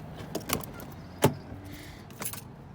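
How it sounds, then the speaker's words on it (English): Car rear door being unlocked on a clean, like-new vehicle: a few sharp close clicks and a distinct latch clunk, with faint key-like jingles around them, in a quiet interior. "Let's unlock that back door."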